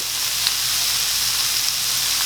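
Shrimp with garlic sizzle steadily in a pan over medium heat, a constant close frying hiss with no voices.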